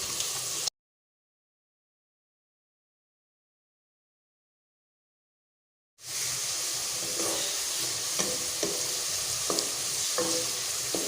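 Softened onions fry with whole spices in a pan, a steady sizzle with brief stirring scrapes, heard after a long stretch of silence, no talk.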